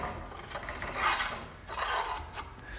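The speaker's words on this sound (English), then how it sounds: "Now the conduit just gets slipped through the hole I drilled and through the eye bolt." Metal conduit rasps and scrapes as it slides through a hole drilled in the wooden frame of a garden swing and through an eye bolt, giving two drawn-out rubbing passes, close and steady, with no talk.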